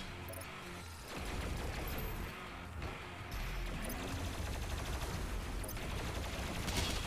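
Rapid gunfire in DOOM: Eternal rattles continuously in dense, loud volleys with heavy low thumps, briefly dipping between bursts before resuming.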